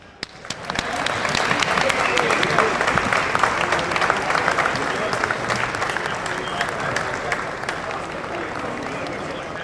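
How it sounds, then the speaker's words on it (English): Loud, sustained audience applause fills a hall at the American Stock Exchange before a bell-ringing ceremony, rising quickly and holding steady with dense clapping and a few voices mixed in. "Please join me in a big round of applause"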